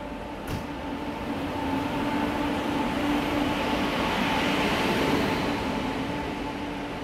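A Garib Rath Express train pulls into a platform at Nagpur station, a steady rumbling drone of wheels and carriages with a faint tonal hum throughout, no speech.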